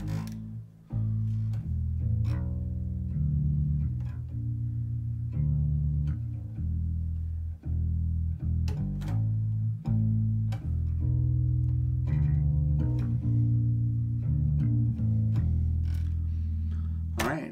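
A Lakland semi-hollow four-string bass guitar played alone, with a run of deep, sustained plucked notes, close and full, some sliding between pitches and brief gaps between phrases.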